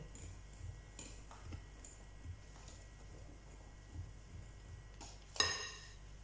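Flour is gradually worked into dough in a bowl for a simple, economical tea cake. Soft, irregular scrapes and light utensil clinks sound close and quiet, ending with one sharper clink.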